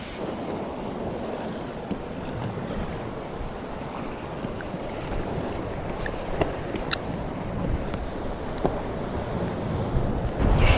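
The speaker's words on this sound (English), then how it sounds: "I mentioned the wind earlier, and it is ripping round here. It's a northerly, so it's it's quite brisk." A strong, brisk northerly wind rips across a small coastal rock ledge used for lure fishing in the UK, roaring as steady, loud buffeting noise with occasional gusts and faint surf underneath, with no voices.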